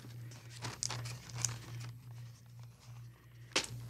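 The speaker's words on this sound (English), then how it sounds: "I fold this part and tape that part there" Paper is folded and creased with crinkling rustles and a few sharp crackles of tape being handled, close and quiet over a faint steady hum.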